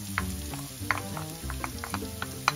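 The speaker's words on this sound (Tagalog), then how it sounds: "Then, saute. Make sure lang na hindi ma-burn yung garlic." Garlic sautés in a hot pan for a Filipino-style paneer burji, giving a steady close sizzle and crackle with small spattering pops and a few sharper clicks from stirring.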